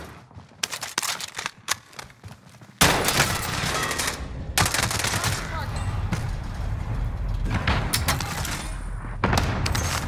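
Cluster strike in Call of Duty Resurgence, a dense barrage of loud explosions and gunfire after a brief burst of scattered shots, continuing in rolling blasts with voices over the combat.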